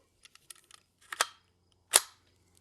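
Two sharp reports from a Ruger 10/22 rifle fired at targets 100 yards away ring out about a second apart, preceded by faint clicks of handling.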